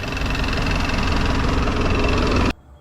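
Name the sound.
longtail boat engine running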